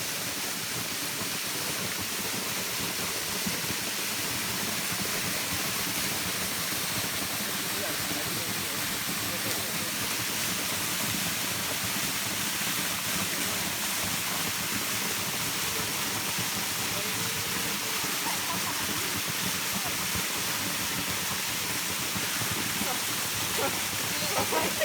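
A waterfall roars as a steady, dense rush of water that stays loud and unbroken throughout, filling the whole scene with close, continuous noise.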